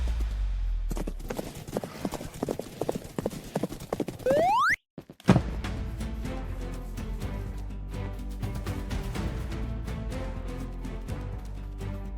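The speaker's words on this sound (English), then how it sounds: "To tame a horse, first ride it without a saddle." Steady clip-clop of a horse's hooves in Minecraft in a regular rhythm, briefly interrupted by a rising tone and a short silence, then continuing with a busier, denser backdrop.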